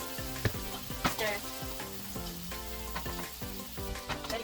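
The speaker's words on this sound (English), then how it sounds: "Let it fry for like about 5 minutes." Vegetables for shrimp fried rice, seasoned with salt and Maggi, fry in a pan with a steady loud sizzle and a few clanks of stirring, no voices over it.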